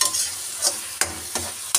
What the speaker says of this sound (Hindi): अदरक लहसुन का पेस्ट, इसको भी हम 5-10 मिनट फ्राई करेंगे ब्राउन होने तक।